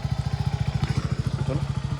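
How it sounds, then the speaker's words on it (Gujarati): A motorcycle engine idles close by during a pilgrimage ride, a steady rapid low thumping putter with a slight rise midway. "દેખો આપણી બાઇક તો આવી કંઈક છે આપણી બાઇક"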